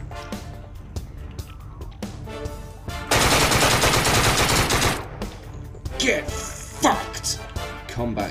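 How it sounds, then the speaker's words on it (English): Rapid shotgun blasts from Deadbolt, a stylized action shooter, with a few spaced shots, then a loud dense burst of combat shotgun fire, followed by scattered sharp reports. "Combat shotgun."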